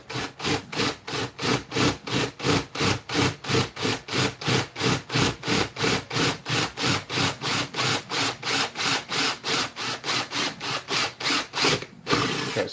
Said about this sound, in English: drilling hollow resin, sometimes it likes to crack out